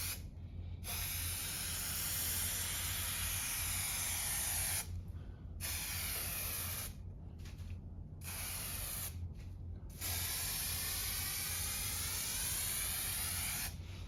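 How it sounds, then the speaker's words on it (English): Close, loud hissing of an aerosol can of contact adhesive spraying onto foam in long bursts, with several short pauses between sprays. "Spray it all the way around the edge."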